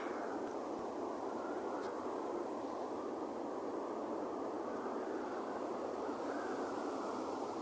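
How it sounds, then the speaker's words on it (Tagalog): Large ocean waves at Pines Beach, New Zealand, roll in as a constant loud wash of surf, a broad steady roar with no breaks and no voices. "Malalaki na ang alon"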